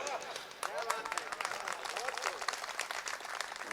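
Mushaira audience at an all-India poetry gathering in Motihari clapping, a dense, fairly loud patter of hands with scattered voices mixed in, steady across a few seconds.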